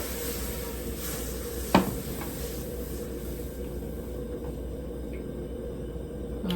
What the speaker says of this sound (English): We're going to add some half and half. Give it a good stir.